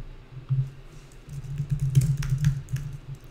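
Quick, uneven run of keystrokes typed on a computer keyboard, close and moderately loud, with soft clicks clustering in short bursts and no one talking.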